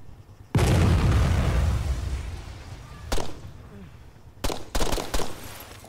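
Rocket explosions in Arma 3 multiplayer, a heavy boom followed by rumbling decay, then several sharper blasts in quick succession at mid distance.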